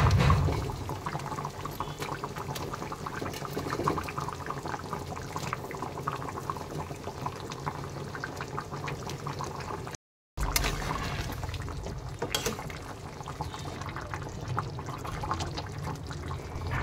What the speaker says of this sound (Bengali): মশলাটা ভাজা হয়ে গেছে, এবার আমি তরকারিটা এর মধ্যে ঢেলে দেবো।